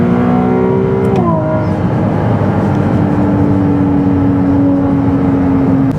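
A Ferrari 296 GTB with 830 horsepower and rear-wheel drive, driven on the Autobahn: its engine drones steadily and loudly, dropping pitch with a gear change early on, then holds a sustained whirring note.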